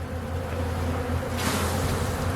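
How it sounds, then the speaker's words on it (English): More honey bees from an open hive on a mild December day, their low, continuous droning buzz close by, joined halfway through by a burst of breathy, windy rustle. "All right, here's some more bees."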